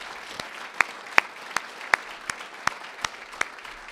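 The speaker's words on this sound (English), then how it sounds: "How about a round of applause for the Park District people?" Sparse, scattered handclaps from a small audience at the Village of Niles mayor's 2023 State of the Village address, thanking the Park District staff; a thin patter of single claps at a steady, unhurried rhythm, moderately distant and fairly quiet.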